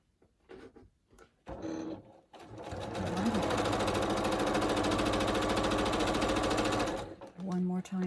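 A sewing machine stitches quilt pieces in a fast, even whir lasting several seconds, close and loud, with short bursts of talk before and after the run.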